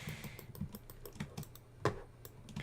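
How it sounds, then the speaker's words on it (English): A loud computer keyboard being typed on, with uneven clacking keystrokes in quick irregular bursts and one sharper, heavier key strike near the end, close up with no talking. "I use the loud keyboard"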